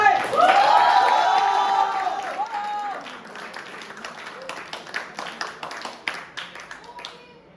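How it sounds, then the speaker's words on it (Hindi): An audience at a college monoact performance claps after a voice calls for applause, the voice giving way to a ragged round of claps that fades into scattered individual claps. "चलो भाई, एक बार तालियां हो जाए।"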